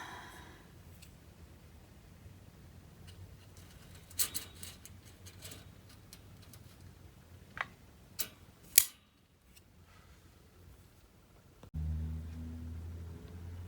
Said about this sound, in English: And I have my scissors for cutting